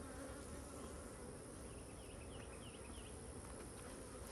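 Honey bees swarm and drone at an open hive during a beekeeping inspection while honey supers are added, a dense, steady buzzing close by throughout with no voices.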